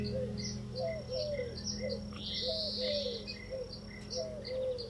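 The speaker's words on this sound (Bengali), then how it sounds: "পাখিটা মনের আনন্দে গাছের উপরে বসে ডাকাডাকি করতেছে" A turtle dove coos in a steady repeating rhythm nearby while a hill myna adds sharper, higher whistled calls, set over a faint constant insect-like hum outdoors.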